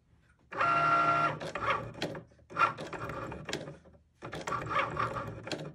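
A Cricut machine writes with a We R Memory Keepers Foil Quill pen, its carriage whirring in close mechanical bursts separated by short pauses as the head moves back and forth.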